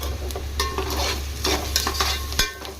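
Sliced onions sautéing in a pan for Nellore-style fish curry, with a steady close sizzle and repeated scraping strokes of a stirring spoon throughout.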